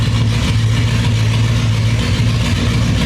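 A 1978 Ford LTD station wagon engine idles in reverse, a steady, loud low rumble with a slightly rough, uneven pulse and no talking.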